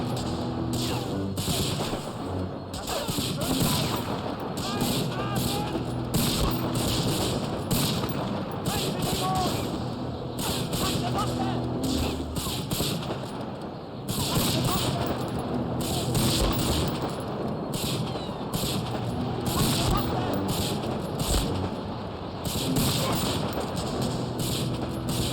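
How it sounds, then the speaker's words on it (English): Rapid gunfire and booming shots in the World War II shooter Medal of Honor Frontline Remastered, a dense, continuous battle barrage of bursts and reports that barely lets up, with a voice talking over it. "just relying mostly on where their gunshots are coming from."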